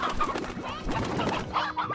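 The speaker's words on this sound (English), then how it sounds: "I should probably make another one of these chicken coops" Chickens cluck steadily in a coop on a farm in the video game Slime Rancher, several overlapping clucks and soft squawks close by with a busy, continuous rhythm.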